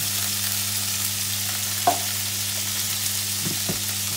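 Venison and onion frying in a pot, a steady hissing sizzle with a few soft stirring knocks and a low constant hum beneath, no talking.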